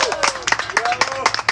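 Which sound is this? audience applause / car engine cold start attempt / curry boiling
audience applause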